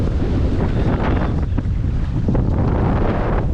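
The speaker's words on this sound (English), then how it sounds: "It's too windy right now, bro." Strong wind buffets a microphone outdoors, a loud, steady roar of low rumble and broadband gusts lasting the whole stretch, with no voices.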